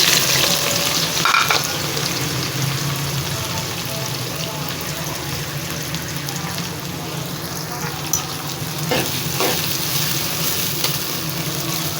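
Sliced onions frying in hot ghee, a steady, close sizzle and crackle that holds for the whole stretch, with occasional clicks of stirring.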